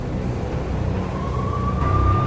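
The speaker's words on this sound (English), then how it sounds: "I could hear the sirens. Their wail was a crescendo." Police sirens wail through a dense, rumbling urban game soundscape in Max Payne, a steady rising tone emerging over the din and holding loud to the end.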